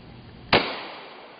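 A single sharp 9mm gunshot from a cheap Tula full metal jacket round fired at stacked satellite dishes outdoors, one loud crack with a short decaying tail and no talk.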